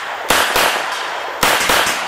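Two sharp, loud reports from a Grison MC14T .380 Auto semi-automatic pistol, a Beretta-style clone, firing close by with a short gap and a faint echo trailing each.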